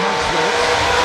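Drag-racing car making a foot-braked run on a mile-long track during a $3,000-to-win Gamblers warm-up race, a loud, dense engine roar that fills the whole brief moment.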